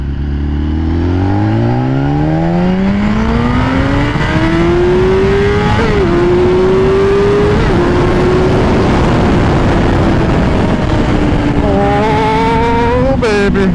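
A BMW S1000RR sport motorcycle accelerates hard through the gears, its loud engine note climbing steeply, dropping briefly at each shift, then rising again, ending in a high wail.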